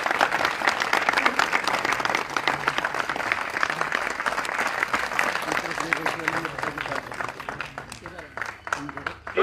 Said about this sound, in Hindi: जोरदार ताली बजा के मनोज जी का स्वागत करिए